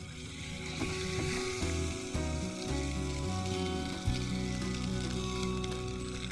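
Cooked rice tipped into a hot pan of tempered spices and raw mango for chitranna, with a steady sizzle and occasional stirring scrapes beneath tonal background music.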